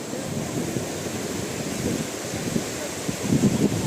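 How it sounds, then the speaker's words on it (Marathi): Constant rushing surf and wind noise on Kihim beach near Alibag, with faint voices mixed into the steady wash of waves. "मस्त छान असा समुद्र किनारा"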